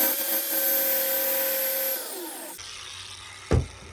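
An angle grinder whines at high pitch while cutting out a pilot bearing, loud and steady for about two seconds before spinning down, followed by a quieter hum and a short sharp clank.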